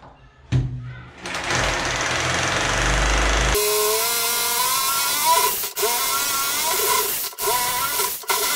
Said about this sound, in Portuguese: por isso que eu vou furar sem medo aqui